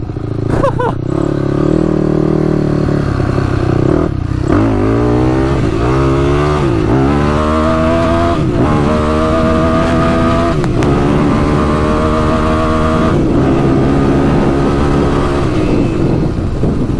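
A Yamaha YFZ450 quad's engine revs hard while being ridden, its loud rising and falling whine climbing through the gears and close up, with clattering mixed in and no talk over it.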